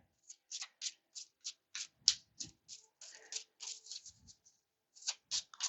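Quick rhythmic riffles of tarot cards being shuffled, in short bursts separated by pauses, close up with faint soft handling noises between.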